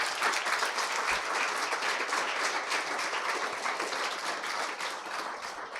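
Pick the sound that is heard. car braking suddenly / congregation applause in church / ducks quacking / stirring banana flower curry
congregation applause in church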